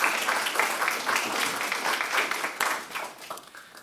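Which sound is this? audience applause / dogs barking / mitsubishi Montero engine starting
audience applause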